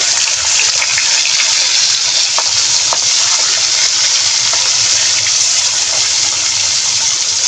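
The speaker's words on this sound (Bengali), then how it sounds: "কড়াইয়ে তেল দিয়ে চুলাতে বসিয়ে দিয়েছি, আর তেলটা গরম হয়ে গেছে। এখন মাছ দিয়ে দিব।" Katla fish frying in hot oil in a kadai, a loud, constant dense sizzle and crackle close up, with no talking.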